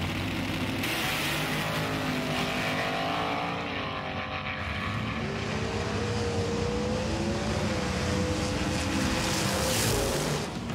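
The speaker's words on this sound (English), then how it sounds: "The caddy's up front with Blue Line behind the wheel." Engines of race cars in a video game drone steadily, with rising and falling pitch sweeps as the cars accelerate and shift, a continuous moderately loud roar with no talk.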